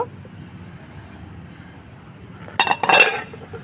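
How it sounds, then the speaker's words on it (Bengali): A metal lid lifted off a cake pan with a short clatter and clink after a quiet stretch of low background hum, close and brief. "এবার আমি ঢাকাটা খুলব"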